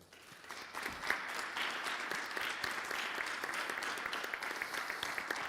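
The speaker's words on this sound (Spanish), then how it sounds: "pido a todos los que estamos aquí y a los que nos siguen por streaming un aplauso grande para él" Audience applause at a Spanish conference event, with sustained, dense clapping from a large crowd throughout, steady and fairly close.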